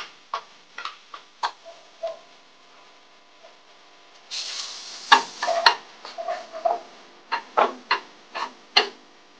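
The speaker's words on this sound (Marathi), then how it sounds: "गाजर, कांदा आणि कोबी बारीक चिरून घेतलेले आहेत ते आपण टाकणार आहोत तेलामध्ये" Finely chopped carrot, onion and cabbage stir-fried in oil for veg momo filling, with a soft sizzle and repeated clicks and scrapes of a spoon against the pan, close by.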